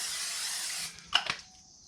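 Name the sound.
Crisco Grill Master cooking spray being sprayed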